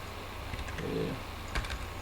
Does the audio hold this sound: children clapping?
no